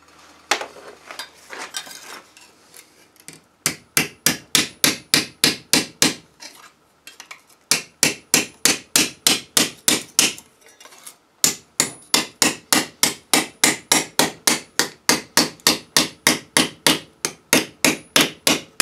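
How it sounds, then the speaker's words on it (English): A hammer strikes sheet metal on a cheap shrinker-stretcher in quick, sharp, ringing blows, loud and close, in fast runs separated by short pauses. "metal generally wants to stretch when you hit it with a hammer anyway"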